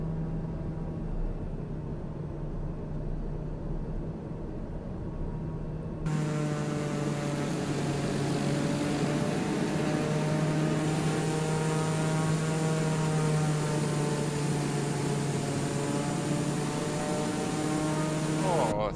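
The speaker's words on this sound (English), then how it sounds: "we want to exercise the propeller" Single turboprop engine of a TBM850 in Microsoft Flight Simulator 2020 during a propeller RPM test, a steady droning hum that jumps abruptly louder around six seconds and holds a rising, wavering tonal whine to the end.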